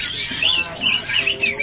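A small songbird, a Javan cica jenggot, gives quick bright chirps and short warbling phrases at a bird market, fairly close and loud, with faint voices in the background.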